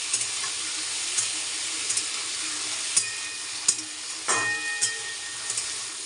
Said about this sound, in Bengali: ভালো করে ভেজে নিতে হবে এটা।